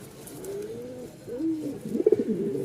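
A male pigeon coos close by in a few soft, throaty, rolling calls, ending in a quick burst of bubbling notes.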